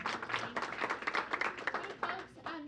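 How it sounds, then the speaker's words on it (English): Audience at a senior luncheon claps in sustained, dense applause that runs loud and continuous throughout, with bursts of talking mixed in. "So let's give her a round of applause."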